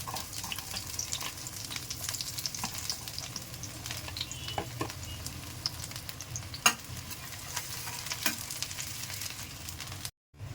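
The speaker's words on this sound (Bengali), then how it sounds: "তেলটা গরম হয়ে গেছে, এখন পেঁয়াজ দিয়ে দিলাম।" Sliced onions dropped into hot mustard oil crackle and sizzle steadily in a pan, with scattered stirring knocks and spoon clicks, close and continuous until a brief cut near the end.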